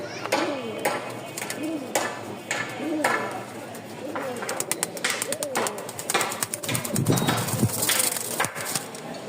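A pigeon at a Dhaka bird seller's coos several times in rhythmic, rolling calls close by, with clicks and fluttering around it and someone talking throughout.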